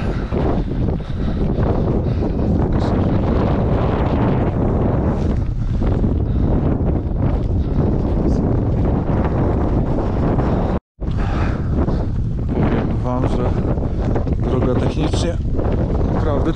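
Strong wind on Hochfeiler mountain in the Zillertal Alps buffets the microphone in loud, continuous roaring gusts, broken by one brief dropout, with faint voices now and then beneath it.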